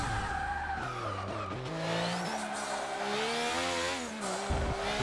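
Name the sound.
Formula 1 race car twin turbo engine in video game Forza 6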